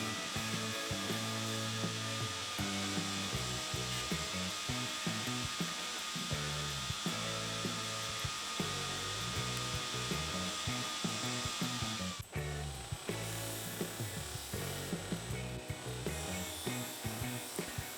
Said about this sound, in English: Just put it on the buffer to get rid of any scratch marks that might have picked up along the way.